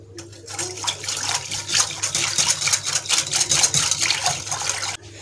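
Half a litre of water is poured into a bowl of pani puri spice mix with chaat masala, a steady close splashing and trickling that lasts throughout with no talk.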